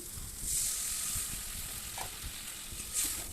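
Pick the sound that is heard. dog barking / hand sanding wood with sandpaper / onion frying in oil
onion frying in oil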